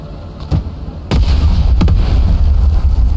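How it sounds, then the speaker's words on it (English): Artillery shells burst in the modern-warfare strategy game Broken Arrow, a few sharp booming impacts followed by a heavy rumbling barrage of overlapping explosions, loud and close. "draw a line or mark a spot and watch the shells fly"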